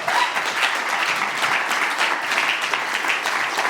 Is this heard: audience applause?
yes